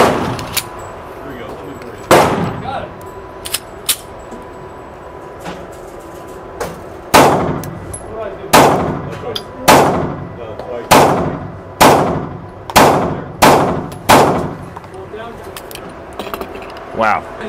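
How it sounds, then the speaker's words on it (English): A BP9TC 9mm pistol fires at a shooting range: a few sharp, loud, widely spaced shots, then a steady run of about eight shots roughly a second apart, over faint background noise. "now here I'm in the range. Let's see if it shoots as well as a dry fire."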